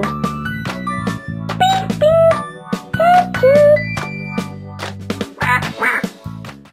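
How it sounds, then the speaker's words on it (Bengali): A series of loud, nasal duck quacks in clustered bursts, close by, with brief pauses between them and no talking. "মা পাতিহাঁস 3টে ছানাকে নিয়ে পুকুরে সাঁতার দিচ্ছিল।"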